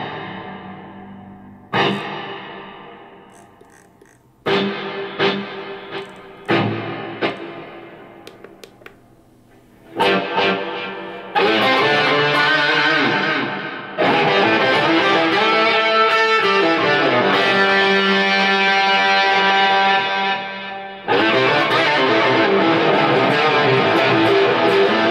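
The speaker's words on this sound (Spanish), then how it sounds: "Le vamos a sacar el reverb porque estoy con mucho reverb." Electric guitar played through a Zoom G2.1Nu multi-effects pedal with a heavy reverb setting, sparse notes ringing out with long washy tails that build into sustained, dense chords; loud and alone, no talking.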